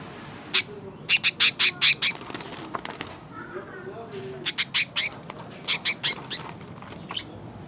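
Bursts of shrill, rapid squawks from a budgerigar come in two clusters, loud and close, separated by a quieter stretch with faint background murmur.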